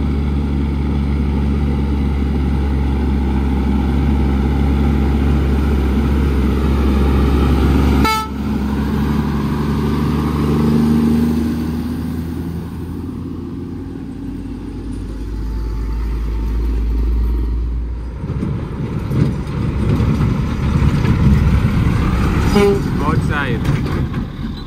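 Truck on Spur Tree Hill in Jamaica, engine drone under loud honking from a truck or air horn, the tone shifting as it passes, with voices talking nearby.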